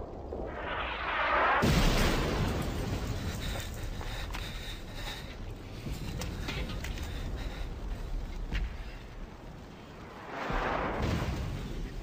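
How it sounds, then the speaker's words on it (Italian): Loud, sustained explosion rumble from a war film featuring a sniper with a Mosin-Nagant rifle, a heavy boom that rolls on for several seconds with debris-like noise and a second surge near the end; no speech. "Fino alla prossima esplosione."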